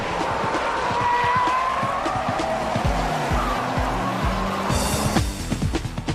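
A Honda NSX-R races alongside a Ferrari F40 on track, the NSX-R struggling with brake problems; loud engine roar with shifting revs and tire squeal throughout, rising into a sharp burst near the end.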